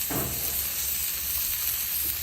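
A smash burger patty is pressed flat on a hot griddle and sizzles loudly, a dense, even hiss that holds steady for a couple of seconds, close and without any talk.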